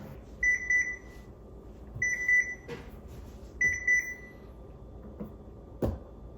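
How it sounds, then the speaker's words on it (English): A kitchen timer used while making homemade yogurt in a pot gives three short bursts of bright, evenly pulsed beeps, loud and close, with faint kitchen clatter between them and no talking. "Timer's done."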